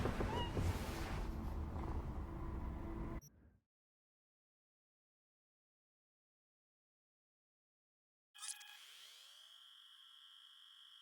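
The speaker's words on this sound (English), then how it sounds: "Oh, hello, cat." A cat in Cyberpunk 2077 meows amid a few seconds of busy game sound. Then everything cuts to silence before a thin electronic tone starts up.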